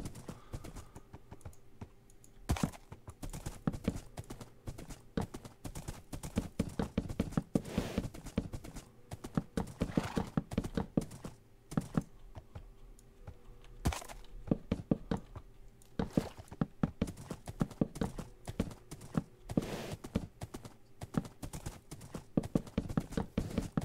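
Steady clip-clop of horse hooves in Minecraft, rhythmic and continuous, with a synthetic, game-like quality and no talking.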